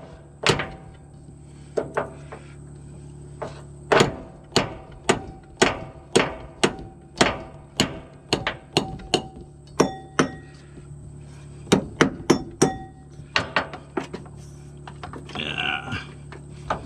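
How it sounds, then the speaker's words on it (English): An old part is hammered off a vehicle with a long run of loud, close metallic blows, struck in steady bursts with brief pauses between groups. "We're gonna hammer this old one off of here"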